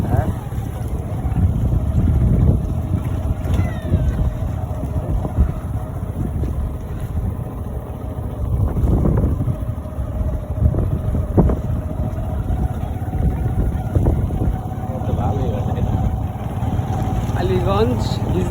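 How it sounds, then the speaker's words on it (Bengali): A boat moving along a river in Barishal, its steady engine drone and water rush carrying throughout with heavy wind buffeting the microphone and people talking. "বোট"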